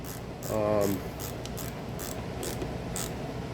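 A ratchet clicks in short, evenly spaced bursts while tightening down a carburetor on a Briggs and Stratton 8.50 engine from a Snapper lawn mower, heard up close over a steady background hiss.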